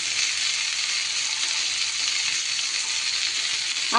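Mashed pointed gourd, fried fish, garlic and dried chillies frying together in a hot pan give a steady, dense sizzle that hisses evenly throughout and swells slightly at the very end.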